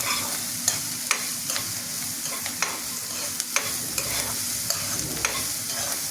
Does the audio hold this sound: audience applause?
no